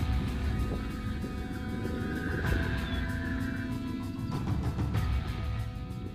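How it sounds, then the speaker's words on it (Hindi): Lions roar at night in the open wild near a lodge, deep rumbling calls rising over a low, continuous background hum. "मैंने जंगल के खुले इलाके और लॉज के आसपास शेर की दहाड़ सुनी"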